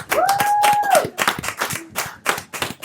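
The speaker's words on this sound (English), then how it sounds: "Give yourselves a round of applause." Scattered handclaps from a small group in a podcast studio, sharp irregular claps fading in and out for a few seconds, with a brief whistle-like tone at the start.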